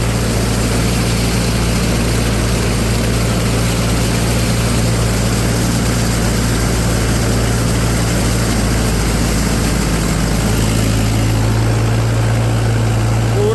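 A Mahindra tractor works a paddy field, its engine straining under load as a loud, steady, low diesel drone with constant humming harmonics and a slight shift in pitch near the end. No one speaks.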